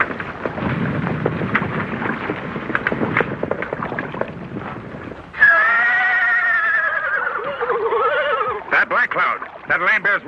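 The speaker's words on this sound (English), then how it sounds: "One of our horses is bogged down." A horse bogged down in mud neighs in an old Lone Ranger western episode: a loud, drawn-out whinny rises and falls, ending in sharp snorting bursts, after an earlier stretch of rumbling scene noise and talk.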